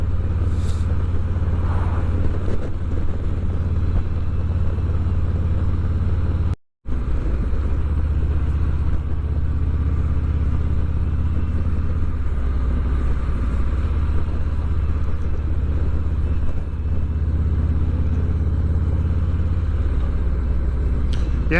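A 2019 Harley-Davidson Ultra Classic cruising steadily at about 55 mph, giving a continuous low engine rumble mixed with heavy wind buffeting, broken by one brief dropout midway.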